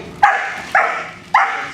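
A young, high-drive protection dog barks three times in sharp, loud, evenly spaced bursts, close to the listener, with no talking over it.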